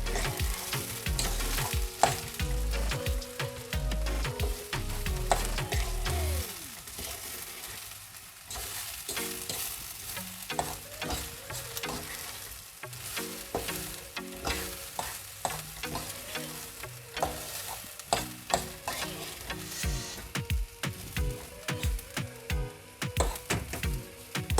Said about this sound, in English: While the rice is frying off